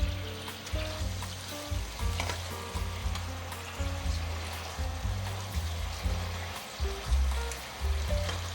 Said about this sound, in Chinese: 把豆干和杏鲍菇放进来，把它翻炒均匀，让豆干和杏鲍菇都沾附到酱汁。